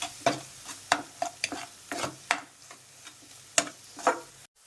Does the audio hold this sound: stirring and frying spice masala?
yes